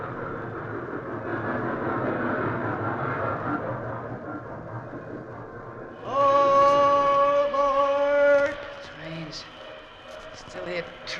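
Train in a radio drama: a rumbling rail clatter fades, then a loud multi-tone locomotive whistle blares for a couple of seconds before dying away, with voices around it.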